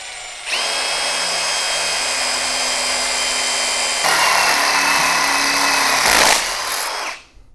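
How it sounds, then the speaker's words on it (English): A handheld power drill bores a hole in motorcycle handlebars while they stay mounted on the bike, a steady loud whine that rises in pitch partway through and then spins down. No talking. "Now I could take these handlebars off and drill that hole in."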